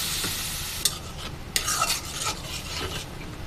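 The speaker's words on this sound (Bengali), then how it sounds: "তারপরে দিয়ে দিব সামান্য পরিমাণে পানি" A turmeric and chili spice paste sizzles in a pan while being stirred for a fish curry. The frying hiss stays close and steady, with scraping strokes and light clinks from the utensil.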